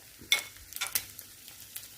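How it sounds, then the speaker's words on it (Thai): A fried egg sizzles in a mini pan, with sharp crackling bursts and spatters at irregular moments over a quiet background. "นี่ครับกระทะจิ๋วของพญซีกับทอดไข่ดาวเลยนะครับ"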